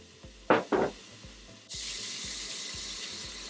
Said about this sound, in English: I'm gonna go ahead and drop the onion in just to infuse it.